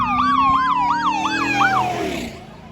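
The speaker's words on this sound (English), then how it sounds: "Even this cool looking police car on the way" A police car siren wails in a rapid, rising-and-falling yelp, loud and fairly close, over a low rumble of traffic and a passing freight train at a railroad crossing. Toward the end it fades slightly.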